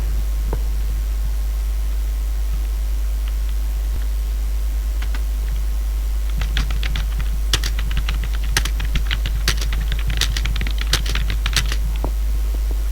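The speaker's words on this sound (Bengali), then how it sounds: "কম্পোজে কিছু একটা লিখে দিচ্ছি।" Email being typed on a computer keyboard: sparse keystrokes at first, then a dense run of clicking taps in uneven bursts over a steady low electrical hum.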